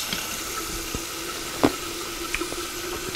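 Tap water runs steadily into a glass in a kitchen, a continuous close splash with a few small clinks and drips, and no voices.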